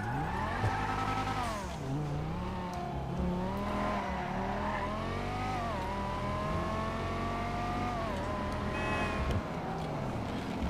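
A race car in GTA 5 Online: an engine revs loud and up close, rising and falling through gear shifts as it accelerates, with brief tire squeals mixed into the constant roar.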